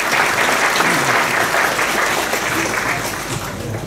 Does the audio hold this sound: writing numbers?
no